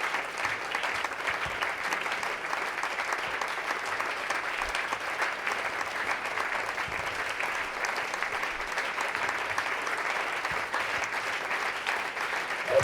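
A church congregation applauds and cheers the Lord with steady, dense clapping that holds for the whole stretch without letting up.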